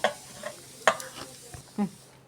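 Raw chicken being mixed by hand with spices, cornflour, salt and crushed ginger and garlic: a few close, wet squelches and light clinks, scattered and uneven, with no talk.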